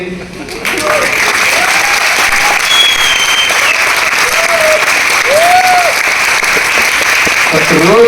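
An audience at a Vestige motivational speech bursts into loud, sustained applause, a dense wash of clapping close by that holds steady after a quick start, with a voice calling out faintly over it.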